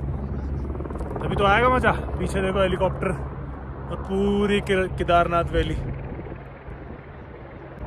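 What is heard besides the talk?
helicopter flying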